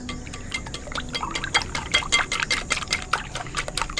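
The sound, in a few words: whisking eggs seasoned with salt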